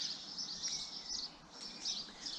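A small bird chirps near a duck house in a rapid, high twittering run that comes and goes in short bursts, fairly faint against quiet outdoor background.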